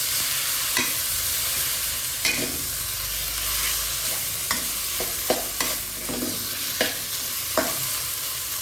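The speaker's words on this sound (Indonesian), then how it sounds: "Kita aduk." Nasi goreng (Indonesian fried rice) being stirred in a pan, a constant sizzle broken by repeated scraping strokes of a spatula at an uneven rhythm, close and fairly loud, with no talk.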